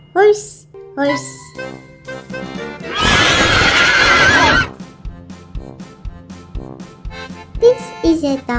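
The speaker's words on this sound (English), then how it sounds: "This is a horse," A horse gives a loud whinny in a burst over a musical backing with a child-like singing voice, alongside short animal-like calls.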